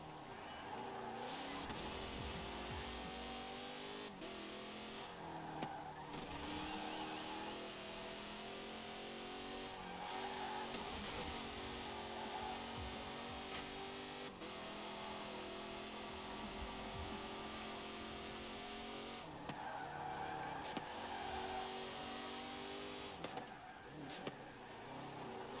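Engine of an Atomic Punk A-Class car in Forza Horizon 4 drones loudly and continuously, rising and falling with revs and gear shifts, with occasional tire squeal on mixed surfaces.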